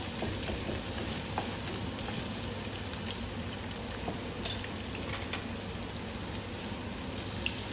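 Food sautés in a hot pan during home cooking, giving a steady crackling sizzle with occasional pops and stirring scrapes, continuous and close, with no one talking.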